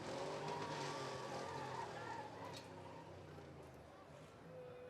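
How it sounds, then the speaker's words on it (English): A car doing a burnout at Rockford Speedway sends out a sustained roar of engine and squealing tires from some distance. Faint crowd and commentary sit underneath. "I think they're into some deeper burnouts here"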